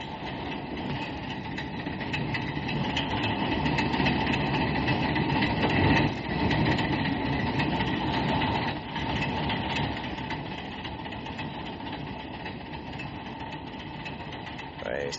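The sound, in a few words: metro train arriving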